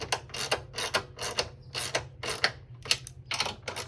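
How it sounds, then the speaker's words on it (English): Wrench ratcheting as bolts are tightened on a GWR v2 front shock tower brace for an ND Miata, a steady series of close, rhythmic clicking strokes with no talk. "where's my wrench? Here we go. So I can start tightening it down"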